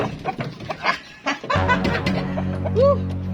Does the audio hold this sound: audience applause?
no